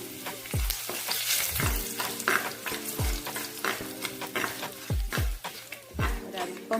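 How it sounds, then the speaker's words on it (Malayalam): Curry leaves and a few chillies tossed into a hot pan for a traditional tuna fish curry give a steady close sizzle, with repeated scraping stir strokes and brief faint talk. "കറിവേപ്പില ഇടുകയാണ്."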